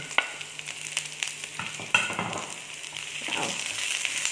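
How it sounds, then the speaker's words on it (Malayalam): Green chillies and curry leaves hit hot oil in a pan, giving a soft steady sizzle broken by a few sharp crackles and a louder burst as more goes in. "ഇതിലേക്ക് ഞാൻ പച്ചമുളക് ഇട്ട് കൊടുക്കുകയാണ്. ഈ കറിവേപ്പിനെ കൂടി ഇട്ട് കൊടുക്കുകയാണ്."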